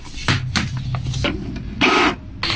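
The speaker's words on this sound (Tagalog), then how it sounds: "At nagloko pa guys yung ating printer." A home printer that is jamming and failing to feed paper prints a cake topper template, with whirring mechanical bursts, clicks and short grinding passes in uneven spurts, close and fairly loud, with no speech.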